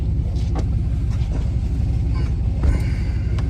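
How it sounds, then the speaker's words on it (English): A van's engine idles and rumbles steadily throughout on a morning, with a low continuous drone and a few faint knocks and rattles over it, close by. "Ignore all the sounds my van's making this morning."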